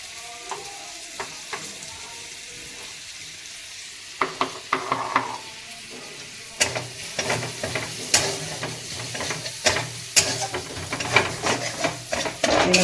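Onions and spices fry slowly in a pan for a chicken dish, giving off a soft, steady sizzle. The frying grows busier partway through as sharp spatula scrapes and clacks against the pan come close and frequent.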